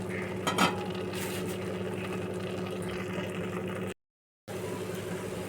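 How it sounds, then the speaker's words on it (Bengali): Spice masala with tomato paste fried and stirred in a pan over low to medium heat, a steady dense sizzle with a brief scrape early on and a short silent gap near the end. "তার আগে মশলাটা ভালো করে কষাবো।"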